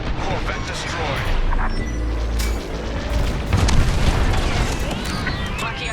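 A rebel Corvette spaceship blows up in the Star Wars Squadrons video game, heavy booming blasts and rumbling explosions layered over dense battle noise and radio voices throughout.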